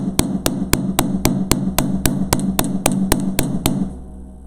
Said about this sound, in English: hammer that spiral down